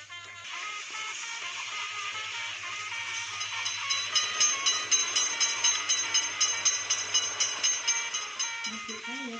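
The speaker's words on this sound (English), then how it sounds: "Attention, train is coming." A train rolls past with a rumbling drone, and a rhythmic clickety-clack of wheels grows louder and more regular through the second half.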